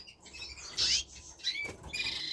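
Pet birds in a backyard shed aviary, including mosaic and agate opal varieties, make faint twittering chirps and a brief flutter of wings, quiet and slightly distant.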